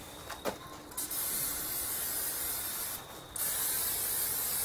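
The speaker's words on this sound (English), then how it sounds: "I coat the outside of the chicken with it." Two bursts of aerosol cooking spray hiss close by onto raw chicken, a short one early and a longer steady one after a brief pause, with faint rustling between.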